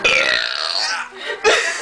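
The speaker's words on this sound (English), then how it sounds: "That'll make me burp." Loud, close burps during a burping contest: a long rasping belch followed by a shorter second burst, with no talking.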